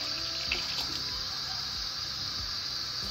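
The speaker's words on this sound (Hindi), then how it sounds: "अब हम पानी डाल देंगे 2 लीटर" Two liters of water pour steadily into a cooking pot already holding lassi and besan, a continuous close splashing gush that runs the whole time without talk.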